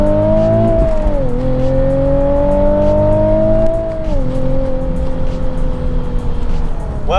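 Nissan 370Z fitted with a silicone intake pipe, engine note rising then dipping as it accelerates through a turn, a steady loud drone with clear harmonics close to the microphone.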